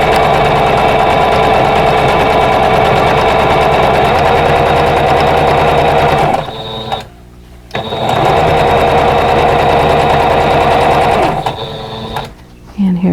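Sewing machine stitching quilt block pieces for a nine-patch, a loud, close, rapid mechanical whir running in long steady bursts with two short pauses between seams.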